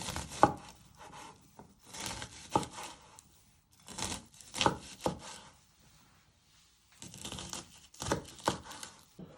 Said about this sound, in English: So you first chop it.